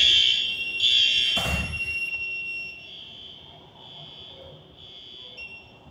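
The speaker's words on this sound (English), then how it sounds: "you can silence the alarm" A fire alarm panel sounds a high, steady electronic tone after a simulated fire device activation, with a dull thump partway through, then quiets to a faint hum and a lingering softer tone, indoors at close range.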